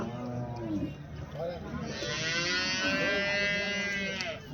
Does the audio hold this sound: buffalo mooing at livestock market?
yes